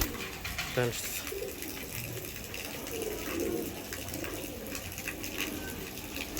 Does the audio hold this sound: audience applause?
no